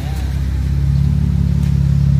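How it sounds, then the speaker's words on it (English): A BMW E36 with a muffler-delete exhaust gives a loud, close, steady low engine drone that swells slightly toward the end. "I gotta hear another rev"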